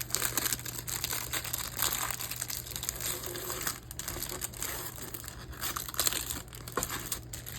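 Plastic packaging of a diamond painting kit crinkled and torn open up close, with steady loud crackling and rustling throughout and no voices.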